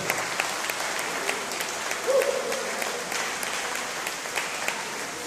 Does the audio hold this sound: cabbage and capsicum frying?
no